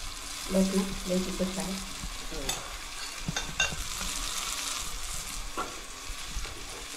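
Chili masala sizzles in an onion-tomato gravy for a clam curry, a steady close frying hiss with stirring scrapes and a few clinks of a spoon against the pan.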